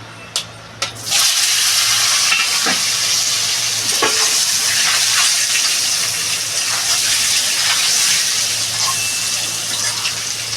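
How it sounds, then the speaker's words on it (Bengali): Boiled taro hits a hot pan for catla fish curry with a sudden loud sizzle that settles into a constant, close hiss of frying, a few clinks of utensils breaking through. "এই যে কচুটা সিদ্ধ করে রেখেছি কচুটা ঢেলে দেবো"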